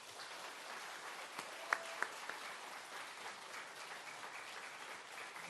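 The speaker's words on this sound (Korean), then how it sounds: "우리 큰 박수로 모시겠습니다." A gathered audience gives sustained applause, a soft even wash of many hands clapping at a distance, with a few sharper nearby claps standing out.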